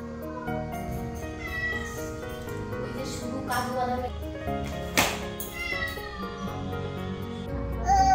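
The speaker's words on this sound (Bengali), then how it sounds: "তাও ম্যাও ম্যাও ম্যাও করে যায় দেখেছো" A pet cat meows repeatedly after being fed, several drawn-out cries heard nearby, mixed with someone talking over them.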